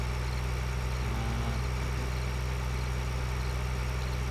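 A farm tractor idling in Farming Simulator 2013, with a steady, even low engine drone that holds unchanged and alone throughout.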